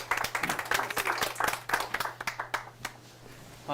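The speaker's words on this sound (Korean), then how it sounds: "박수 부탁드리겠습니다." A small studio audience applauds to welcome a guest on a Korean startup talk show, brisk clapping that thins out into a few isolated claps before fading, over a steady low hum.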